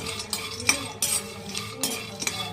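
Pistachios being lightly roasted and stirred in a pan, with close, steady scraping and soft clinking strokes of a spoon against the metal, repeating about every half second.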